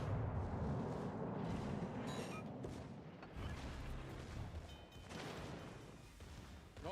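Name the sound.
torpedo explosion in World of Warships Legends, video game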